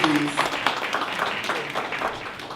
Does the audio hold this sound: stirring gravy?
no